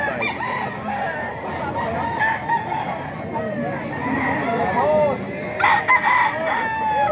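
Roosters crow repeatedly amid clucking chickens at a busy chicken market, several birds calling near and far over steady crowd noise and someone talking.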